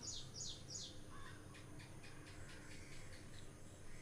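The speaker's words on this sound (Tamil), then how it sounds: "இந்த பறவைகளோட சத்தம்" Several birds chirp and tweet in quick bursts over a quiet outdoor morning background, with a few harsher calls mixed in; the birdsong is faint and distant.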